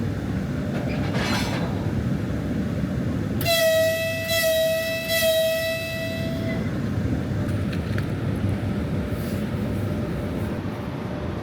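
An EP1P061 electric locomotive, built in 2010 at the Novocherkassk electric locomotive plant, rumbles steadily along the rails while its horn sounds one sustained, loud, tonal blast of about three seconds partway through.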